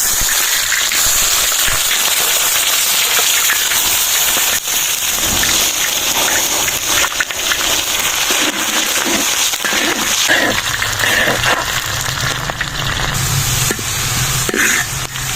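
Onions hit hot oil in a village kitchen pan, a loud, dense crackling sizzle that holds steady for the whole stretch, with no talking.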